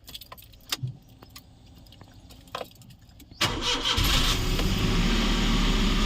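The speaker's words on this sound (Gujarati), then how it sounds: "હવે ગાડીને સ્ટાર્ટ કરીને બતાવું." A CNG and petrol car starts up after a few key clicks and jangles, its engine catching abruptly and then settling into a loud, steady idle close by.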